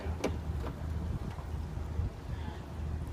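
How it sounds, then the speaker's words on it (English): Wind rushes over a Beneteau Oceanis 48 sailboat at sea with a breathy buffeting against the microphone, plus a few faint knocks and rigging sounds, at moderate, uneven loudness. "There is a little bit of wind now."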